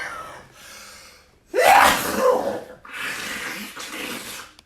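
A person imitates a sick person's sneeze: a sharp gasping intake, then a loud explosive burst with breathy trailing noise, set between quieter breathy vocal sounds.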